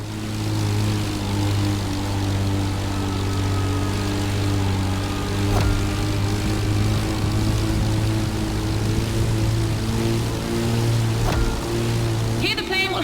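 A propeller plane drones steadily in a Red Bull Speed Clash race in The Crew Motorfest, a loud, continuous buzzing hum with a low steady tone and faint rushing noise throughout.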